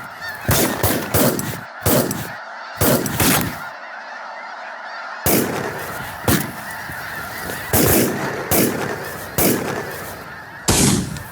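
Snow geese honking loudly in a dense flock during a spring hunt, their calls overlapping continuously while several sharp, close shotgun blasts crack through at irregular intervals.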